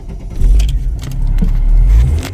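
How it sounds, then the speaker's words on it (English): The engine of a 1949 Chevy Styleline custom hot rod running close by, with a low, uneven exhaust rumble and puffing pops that make it sound like a blowing exhaust, plus a light metallic jingle. "These engines are renowned for sounding like you've got a blowing exhaust, but you haven't."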